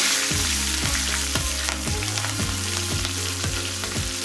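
Cumin seeds crackling and sizzling in hot oil for a mango dal tempering, a loud, close, continuous frying hiss with soft music playing underneath.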